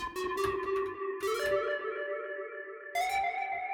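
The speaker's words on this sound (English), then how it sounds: "And Dragonfly Reverb again." A synth plays held chords and higher notes washed in a spacious Dragonfly Reverb, the tails blurring smoothly into each other.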